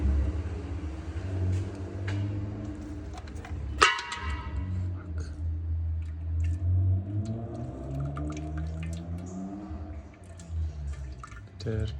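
A 2002 BMW 325i petrol engine with leaking oil sump and filter runs nearby, a steady low idle hum that rises and falls in pitch, with a sharp knock partway through and light clatter around it.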